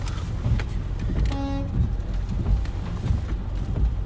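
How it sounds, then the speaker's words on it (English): A passing truck's horn gives one short tonal honk, heard at a distance over steady wind buffeting the microphone and low vehicle rumble on an open road during a dusty landspout tornado in Nebraska. "The guy over there is honking."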